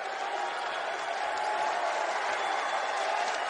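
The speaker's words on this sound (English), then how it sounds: "And listen to this crowd" A basketball arena crowd cheering during an NCAA title game between Marquette and St. Bonaventure, a sustained dense roar of voices and applause, steady and fairly distant.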